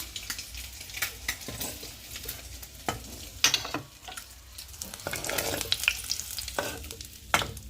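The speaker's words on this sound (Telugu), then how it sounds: "అదే ఆయిల్లో అయితే అల్లం వెల్లుల్లి పేస్ట్ వేసుకొని మొత్తం తాలింపు వేసేసుకున్నాం" Ginger garlic paste frying in oil left from shallow-fried eggs, a steady sizzle with scraping stir strokes of a spoon in the pan, close and fairly quiet, no talking.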